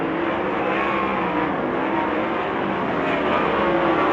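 360 sprint cars roar around the East Bay Raceway track during a heat race, a loud, unbroken engine drone close at hand with the pitch shifting slightly as the cars pass.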